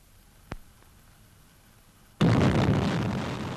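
Archival film of an atomic bomb test explosion: one faint pop, then a sudden loud roaring blast that rushes in and rumbles on with broad, sustained power to the end.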